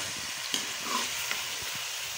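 Chicken pieces fry in a pan for a chicken and peas curry, a close, steady crackling sizzle with a couple of small pops and stirring scrapes, no one talking.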